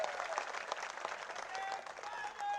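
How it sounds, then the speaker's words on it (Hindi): A crowd at a Congress party rally in Mandsaur applauds to welcome Sachin Pilot, a steady, moderately distant wash of clapping with some cheering mixed in. "सचिन भैया के लिए जोरदार तालियों से स्वागत करो"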